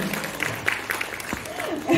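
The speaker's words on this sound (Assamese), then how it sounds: "যদি ধুনীয়া লাগিছে আৰু ভাল লাগিলে তেতিয়াহ'লে হাত চাপৰি এবাৰ জোৰ কৰে" Audience applause at an International Women's Day event, a spread of scattered hand claps under ongoing background voices, moderately loud and continuous throughout.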